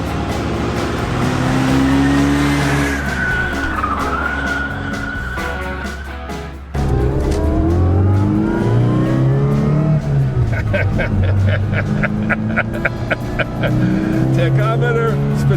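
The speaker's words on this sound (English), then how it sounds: "I don't think it gets any more immediate and real than being behind the wheel of a Mini." A 1999 classic Mini Cooper drives and accelerates, its engine loud and close, rising through the revs, dropping at a gear change and climbing again, with a voice talking over it.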